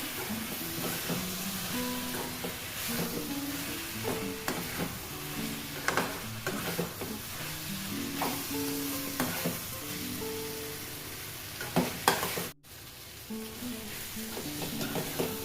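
Spiced eggplant curry with chili powder and jaggery is stirred in a pan, with steady close scraping strokes over a continuous sizzle, briefly cut off near the end.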